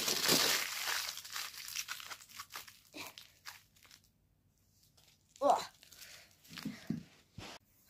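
Aluminium foil is crumpled and pressed into a ball at close range, with bursts of crinkling and crunching that come and go amid quiet gaps and some speech.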